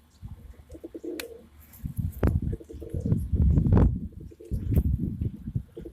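Pigeons coo up close in repeated throaty, rolling calls, with a light rustle and a faint chirp in between.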